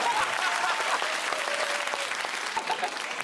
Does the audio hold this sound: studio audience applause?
yes